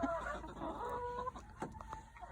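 Chickens cluck softly inside a coop near the nest boxes, a few scattered close clucks and murmurs over a quiet background.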